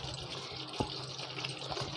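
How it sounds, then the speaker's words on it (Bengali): Half a cup of water is poured into a simmering curd paneer gravy, a steady wash of liquid sound with one brief splash-like burst partway through. "1/2 কাপ মতো জল আমি অ্যাড করে দিলাম"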